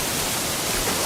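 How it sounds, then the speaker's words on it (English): A waterfall in a video game gives off a brief, steady wash of rushing water, an even broadband hiss with no speech. "Behind the waterfall."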